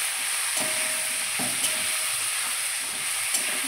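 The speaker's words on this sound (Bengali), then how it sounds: "একটু হলুদের গুঁড়ো, দিয়ে আবারও ভালোভাবে নেড়ে চেড়ে নিচ্ছি।" Puti fish with salt and turmeric fries in a pan, a loud continuous sizzle broken by a few scraping stirs of the spatula.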